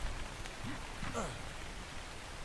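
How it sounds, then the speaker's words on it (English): Steady rain hisses across the landscape in ARK: Scorched Earth, a soft broadband wash running the whole moment, with a faint voice briefly murmuring underneath. "At least it's raining anyway"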